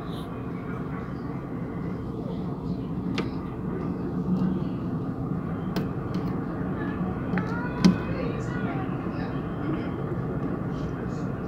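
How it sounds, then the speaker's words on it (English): A southbound Union Pacific train passes at steady volume as a continuous low rumble of rolling wagons, with brief clanks and a sharper knock near the end; speech is present in the clip. "Yeah, there's a train going this way."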